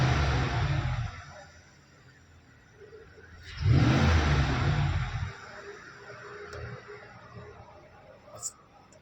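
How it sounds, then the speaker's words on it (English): A car engine is revved during a diagnostic scan tool check for misfires, with two short bursts of revving separated by quieter idle, heard up close. "Little bit rev acceleration."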